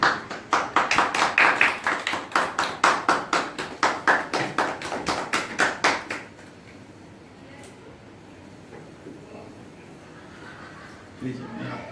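A group claps in a steady, distinct rhythm of sharp hand claps for about six seconds at a gathering, then stops, leaving quiet room tone and faint murmurs.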